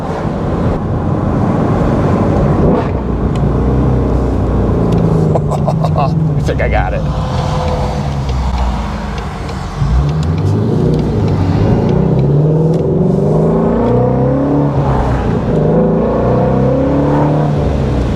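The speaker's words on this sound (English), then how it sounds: "you get that nice crack of the engine and you get it perfectly" A 2019–2020 Ford Mustang GT350 engine accelerating and revving, a loud close rumbling roar with rising and falling pitch sweeps, while a person talks over it.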